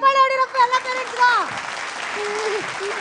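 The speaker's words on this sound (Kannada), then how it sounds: "ಚಪ್ಪಾಳೆ ಹೊಡಿರಪ್ಪ ಎಲ್ಲ ಪೇರೆಂಟ್ಸ್ಗೂ." An audience claps for the parents in a lively burst of applause that continues steadily, while voices ring out loudly over it at the start and then fade away.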